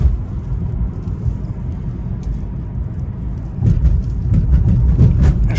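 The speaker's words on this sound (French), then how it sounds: "Et le 335i, le 6 cylindres en ligne, est très agréable." BMW 335i with an inline six-cylinder engine driving gently, giving a low, steady engine hum and road rumble that swells slightly louder toward the end, with some faint clicks.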